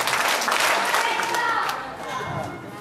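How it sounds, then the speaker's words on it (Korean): Children clap together at a church revival meeting in a crowded room. The dense clapping sounds loudest at the start and fades toward the end, and an adult voice speaks over it. "박수대로 시작."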